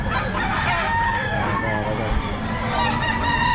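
Chickens at a pet market in Baliwag, with a rooster crowing amid dense clucking and market bustle, steady and fairly loud throughout, while people talk in the background.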